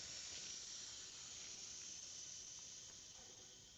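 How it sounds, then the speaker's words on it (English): Air hissing steadily out of a tire valve stem after the core is removed with a valve remover, a continuous broadband hiss that fades slightly toward the end, alone and fairly quiet. "now I'm gonna release the pressure from air using a valve remover"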